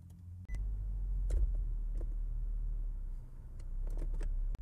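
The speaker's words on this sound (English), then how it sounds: "Just start the car." An Infiniti G37 engine turns over after a brief beep and settles into a steady, low idle hum, with a few faint clicks over it.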